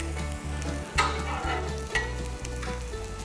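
An omelette cooks on a Blackstone griddle, giving a dense, continuous close sizzle with occasional spatula scrapes and taps over a low steady hum.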